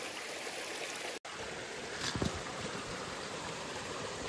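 A shallow, silty creek flows in a steady, even rush, broken once by a short dropout and followed by a brief splash or knock.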